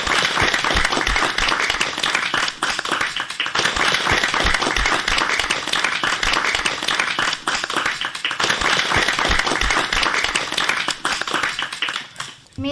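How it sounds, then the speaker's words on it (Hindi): Sustained applause from a crowd of schoolchildren at a school program, dense and steady clapping that carries on loudly for several seconds before tapering off at the end. "तो ताली बजाओ सब बच्चे"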